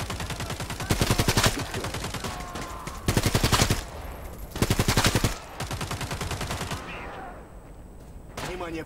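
Bursts of automatic gunfire in the online shooter Caliber, four rapid volleys of close, loud shots separated by brief pauses, with quieter game noise between and no talking.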